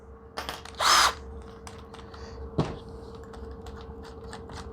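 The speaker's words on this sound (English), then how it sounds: "I'll run this drill bit real fast." A power drill spins a bit up briefly in a workshop making a custom Kydex press, one short high whirring burst near the start, followed by scattered tool clicks and a single thump over a low steady hum.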